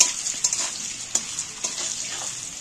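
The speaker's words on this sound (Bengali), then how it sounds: "এইবার আমি তেলটার মধ্যে নাড়াচাড়া করে ভেজে নেবো ভালো করে।" Potatoes seasoned with salt and turmeric sizzle in hot oil, a constant bright frying hiss broken by sharp scraping stirs of a spatula at irregular moments, close and clear, with no voices.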